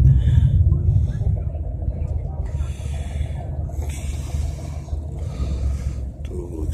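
A 1970 Cadillac Deville convertible idles through its dual exhaust with a low, steady rumble, while someone talks over it.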